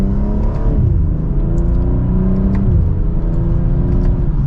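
A BMW M240i xDrive pulls away from second gear, its engine note rising in a smooth, loud rumbling rev heard from inside the cabin, with a brief dip before it climbs again.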